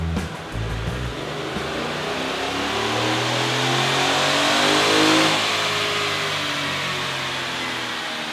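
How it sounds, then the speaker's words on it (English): A stock 2018 Ford F-150 with the 5.0-liter V8, running 87-octane fuel with no tune, revs hard on a dyno, its loud engine note climbing steadily through a sustained full pull with no pause. "we just finished our baseline dyno pull on our 18 F-150 5 liter"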